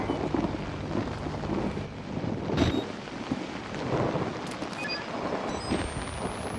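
Thunder rolls through a stormy night in the horror game Outlast, a steady rumble with rain and wind, swelling into a louder crack midway and continuing alone without talk.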